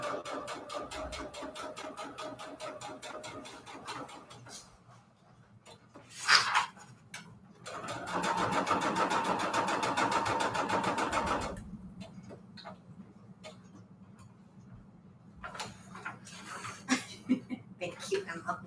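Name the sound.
sewing machine sewing a straight stitch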